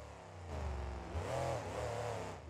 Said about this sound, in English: So let's fire this truck up.